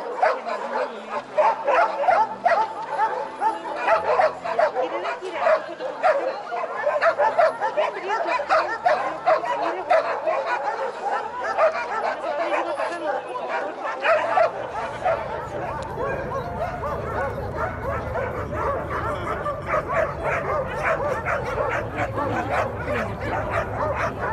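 A Yakutian Laika barks and yips over and over at a dog show, and the sound is fairly close. Whimpers and an excited crowd join in, the barking is at its busiest early on, and people chatter underneath throughout.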